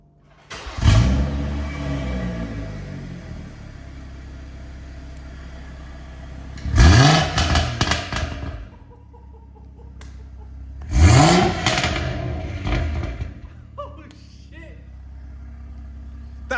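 A BMW M240i with a B58 engine and a newly fitted Scorpion exhaust revs three times, each a loud, deep rising roar fading back to a rumbling idle, with people talking in between.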